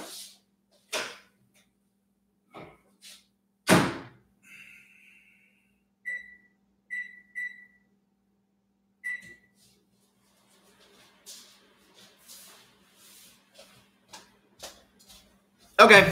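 A microwave oven in a barn is loaded and started: a few knocks and door clunks, then a run of short, clear keypad beeps, three close together and one more after a pause, with quiet rustling afterward.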